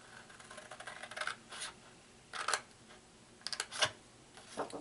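Scissors snip the corners off envelope flaps, a few small clusters of crisp ticking cuts and paper rustles, close and fairly quiet.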